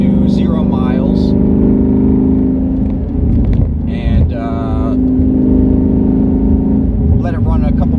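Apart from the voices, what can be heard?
2019 Ford Mustang GT engine running in driveway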